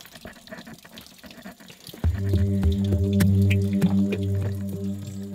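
A very weak mountain spring trickles and splashes into a plastic container, starting faint then turning louder and hollow-sounding, with steady tonal resonance and occasional drips.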